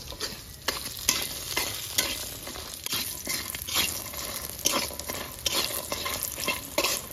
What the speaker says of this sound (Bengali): বড়িগুলো একটু লাল লাল করে ভেজে নেবো